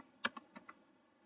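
A short burst of four quick keystrokes on a computer keyboard entering a command, crisp and close in a quiet room, then silence.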